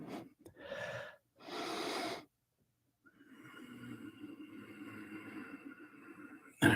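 Slow controlled breathing exercise: a couple of audible breaths drawn in close to the microphone, a short pause, then a long, steady, airy breath drawn upward, quiet and intimate.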